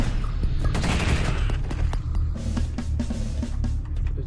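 Rapid gunfire from a turret in the sci-fi horror game Space Beast Terror Fright, a loud, dense fusillade of sharp repeated shots rattling continuously over a heavy low rumble, with no talk over it.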